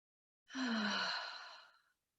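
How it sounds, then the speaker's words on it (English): One deliberate, audible breath taken during a guided breathing exercise, in through the nose and out through the mouth. It is a close, breathy rush of about a second and a half that fades out and stands alone. "So it's going to be in through your nose and out through your mouth audibly like this."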